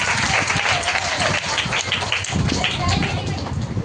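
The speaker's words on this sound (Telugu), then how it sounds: "చప్పట్లు కొట్టండి అమ్మాయి గారు" A room of schoolchildren claps their hands together at a teacher's prompt, a busy, uneven patter of many small hands, close and loud, with voices chattering over the clapping throughout.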